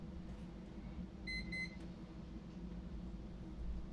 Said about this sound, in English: Let me start the timer.